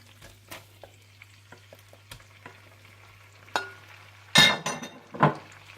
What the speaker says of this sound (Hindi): जैसे ही मक्खन गरम हो जाए तो आप इसमें डाल दें चिकन।